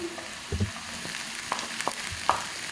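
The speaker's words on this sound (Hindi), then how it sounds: "प्याज हल्का सा फ्राई हो गया। अब मैं इसमें चिकन डाल दूंगी" Lightly fried onions and chicken hiss in a pan for chicken pinwheels, a brief close sizzle with several soft stirring knocks and scrapes, no voices present.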